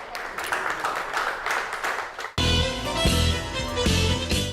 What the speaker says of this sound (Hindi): जोरदार तालियां इनके लिए हो जाए यहाँ पर।